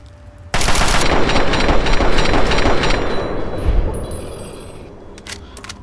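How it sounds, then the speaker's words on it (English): Sustained automatic gunfire in Fallout 3, modded, loud and close, with dense rapid bursts that start suddenly and gradually thin out over several seconds, ending in a few scattered metallic clicks. "And I definitely heard gunshots."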